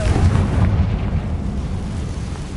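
A Confringo spell blast in the Hogwarts Legacy video game rumbles as a loud, deep explosion that swells at once and then rolls on as a dense, broad boom with no voices.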